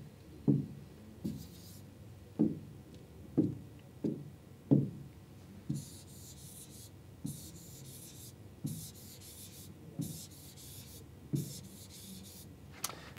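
A pen writes on a spread of five playing cards in a quiet room, making a series of soft, scratchy taps and strokes, with brief pauses between the marks.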